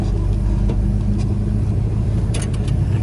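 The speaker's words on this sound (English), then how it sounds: "I can feel the car sliding." A car drives slowly along a muddy road, its engine a steady low rumble close by with faint tire slip and mud noise, no speech.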